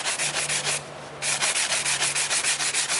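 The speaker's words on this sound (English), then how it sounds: "as I'm sanding to get grain lines all the way around and make sure that my PVC pipe is unblemished" PVC pipe is sanded by hand in quick, even back-and-forth strokes, with a brief pause partway through. The rubbing is close and steady.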